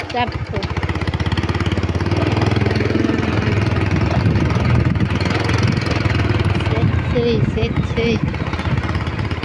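A small vehicle engine putters steadily and close while being ridden along, a continuous mid-pitched drone with people talking over it throughout.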